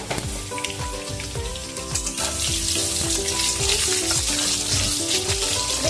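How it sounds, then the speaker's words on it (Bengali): Potatoes, lightly salted, fry in hot oil with a loud, steady sizzle that swells toward the end, alongside faint tonal sounds in the background. "লাল করে আলুটা ভেজে তুলে নেবো"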